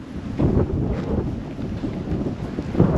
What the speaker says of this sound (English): A light wind, not too bad.